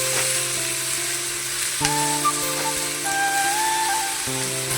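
Sliced potatoes fry in oil with dried chilli and cumin, a continuous close sizzle punctuated by a couple of sharp clatters as they hit the pan and are stirred.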